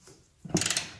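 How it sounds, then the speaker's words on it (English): A ratchet turning a camber bolt on a 2001 Ford Ranger, a short burst of four or five quick metallic clicks up close after a brief thud, otherwise quiet. "Get your ratchet on the end of the bolt right here"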